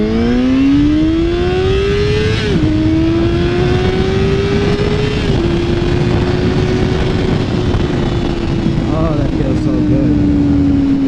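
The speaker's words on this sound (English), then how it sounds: "It sounds really clean and nice, the Yoshi. It's not loud, but it just sounds super legit, and it purrs at low RPMs." A motorcycle fitted with a Yoshimura exhaust runs and is ridden, its engine note droning steadily with smooth pitch rises and dips as it shifts, close and loud without any talking.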